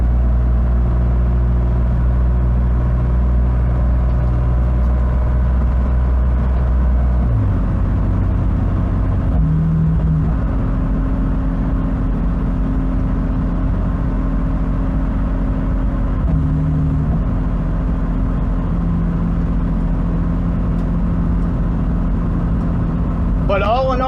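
A BMW E46 driving with its idle control valve deleted, a loud steady in-cabin engine drone whose pitch shifts as it moves through light throttle and lift-off, continuous for the whole stretch.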